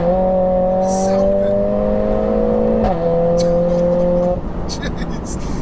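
A tuned 500bhp Mercedes A45S with a sports catalytic exhaust pulls hard, its engine note climbing steadily, dipping briefly at a shift, then rising again, loud and close with a raspy tone and a voice speaking over it.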